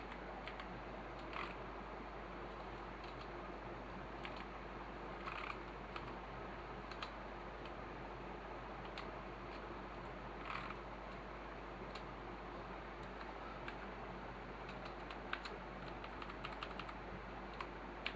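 Typing on a computer keyboard while setting up a Wi-Fi router, a steady run of close, light key clicks with a few sharper taps over a constant low electrical hum.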